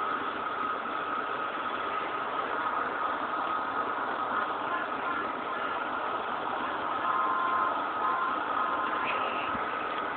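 Truck engine in a GTA game, a steady mid-pitched drone held at constant level for the whole stretch, with a slight swell near the end as the throttle rises.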